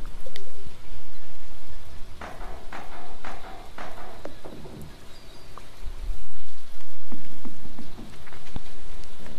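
Rain hisses steadily in the farming game Stardew Valley on a gloomy, overcast day, with scattered bird coos and chirps popping up over it and no talking.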